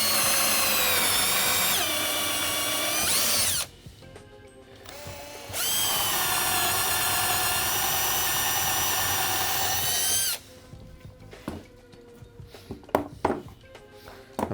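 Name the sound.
power drill drilling wood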